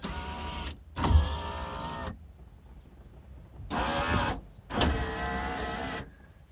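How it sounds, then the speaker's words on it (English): Electric power windows in a Jeep Cherokee whir up and down in four separate motorized runs, each a second or two long, with short quiet pauses between. "Got my power windows hooked up."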